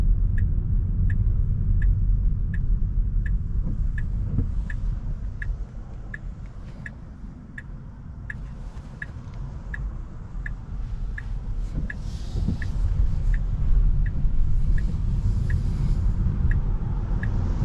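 A 2025 Tesla Model 3 Long Range AWD on the road, heard from inside the cabin as a steady low rumble of road and tyre noise, with a regular soft ticking like a turn signal clicking through much of it.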